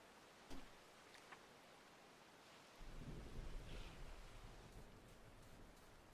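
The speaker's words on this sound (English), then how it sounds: "It's raining." Rain hisses steadily in the game Voyagers of Nera, with a sharp thunder crack early on and a heavier low rumble of thunder rolling in near the midpoint and lingering under the downpour.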